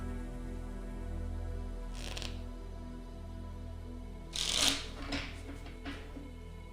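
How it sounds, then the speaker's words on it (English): A deck of playing cards being shuffled, two quick riffling bursts, the second longer and louder, followed by a few lighter card taps, close up and with no talking. "One more shuffle."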